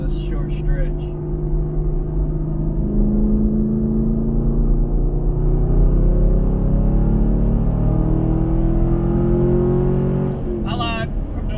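A 2017 Chevrolet Camaro SS 1LE with a Corsa Xtreme catback exhaust pulls hard in a sustained, deep engine drone heard from inside the car, steady and loud throughout with a short burst of noise near the end.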